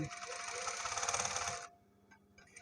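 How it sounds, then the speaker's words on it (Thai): A sewing machine stitching a shirt collar runs in a steady, loud, fast buzzing whir for about a second and a half, then stops, leaving a quiet room with faint clicks. "เย็บย้ำจุดเริ่มต้น"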